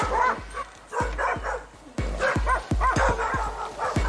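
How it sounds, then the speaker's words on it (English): Several puppies yip and bark in quick bursts during an animal rescue in Houston, with whimpering mixed in, close and fairly loud. "There are at least 2 sets of puppies inside."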